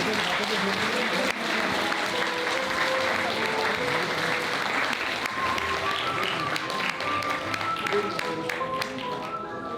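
Wedding guests at a Novotel Gangnam hall applaud during the ring exchange, sustained crowd clapping running throughout with soft ceremony music playing beneath it and faint voices mixed in.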